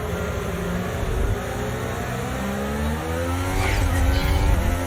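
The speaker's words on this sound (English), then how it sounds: "Look at the My Team car." Race car engine in the F1 23 video game, a My Team car on the Las Vegas circuit, droning steadily with rising and falling revs throughout, loud and continuous with no talk.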